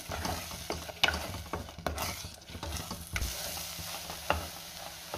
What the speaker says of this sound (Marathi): आणि पुन्हा सगळं व्यवस्थित मिक्स करून घेऊया।